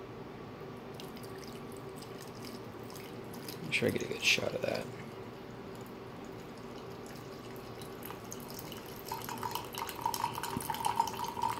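Freshly brewed Turkish coffee is poured from the pot into a cup, giving a soft trickle with a few drips and light clinks of crockery, partly under someone talking.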